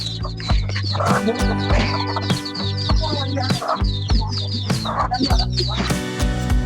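Chickens cluck steadily at feeding time in a farmyard flock kept with ducks, many birds overlapping in a busy, continuous chorus with no talk.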